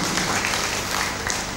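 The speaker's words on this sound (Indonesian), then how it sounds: "Beri tepuk tangan untuk beliau." Brief burst of audience applause at a formal open senate graduation ceremony of a teachers' college in Bima, Indonesia, steady and full across a short moment.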